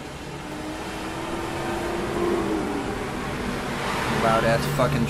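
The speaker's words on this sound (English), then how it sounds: "loud ass fucking truck" A heavy truck rumbles past outside, a broad roar that swells and fades, with a voice speaking over it.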